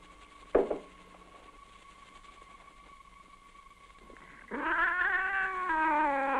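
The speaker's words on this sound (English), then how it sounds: "She's a cat." A cat gives one long, drawn-out meow that rises and wavers near the end, close and moderately loud, after a brief knock and a quiet stretch with a faint steady hum.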